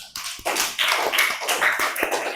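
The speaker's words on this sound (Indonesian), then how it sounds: "Ayo tepuk tangan kita untuk kita semua." A classroom of students claps together, with uneven, overlapping hand claps and taps building into a lively, close burst of applause that keeps going and has no speech over it.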